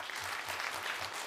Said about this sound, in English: I request you to give a big round of applause to all the panelists